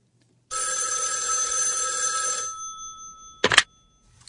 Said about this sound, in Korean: 오후나절 전화가 왔다.